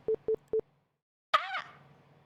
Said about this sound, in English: It was Morse code again.